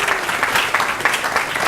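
An audience at a book presentation applauds, with steady, dense clapping that fills the room loudly and carries no talk over it.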